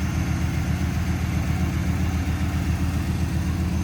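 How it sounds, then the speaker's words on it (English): A 1995 Chevrolet Camaro Z28 convertible's engine idles steadily nearby, a low, even rumble with no revving and no voices. "Again, good sounding engine."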